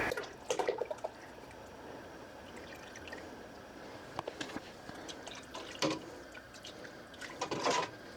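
A pint of heavy cream poured into a pot of chicken and dumplings, giving soft, faint liquid splashes and scattered drips against a quiet kitchen background.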